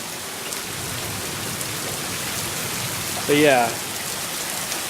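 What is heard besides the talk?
heavy rain falling outside a garage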